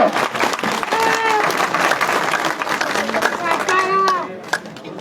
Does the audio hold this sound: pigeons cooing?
no